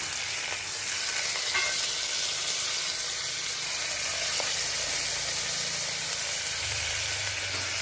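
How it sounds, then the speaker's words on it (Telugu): Green pigeon peas frying with roasted onions in a pan for an eggplant and cauliflower curry, giving a steady close sizzle throughout with faint stirring scrapes and no talking. "ఇప్పుడు ఇందులో మొత్తం ఐటమ్స్ వేసుకుందాం ఫస్ట్గా పచ్చికందులు కాలుతుంది"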